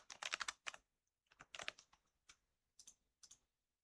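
Keys clatter on a computer keyboard in short bursts of quick taps separated by pauses, close and fairly quiet, with no voices.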